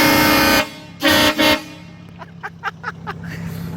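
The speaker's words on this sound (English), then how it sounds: "yes, it's got a train horn." Train horn on a heavily modified Ford Raptor pickup truck, blasting in two loud, close, sustained bursts, followed by a rapid series of shorter, quieter toots.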